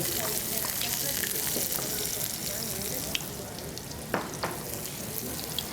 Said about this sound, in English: We want to caramelize the Trinity.